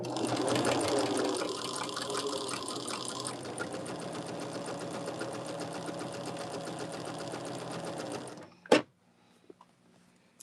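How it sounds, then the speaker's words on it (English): A sewing machine runs steadily, chain stitching pieces of a Jacob's Ladder quilt block, loud and close for about eight seconds before stopping abruptly with a sharp clack, then near silence. "Okay, and we'll keep it chain stitched."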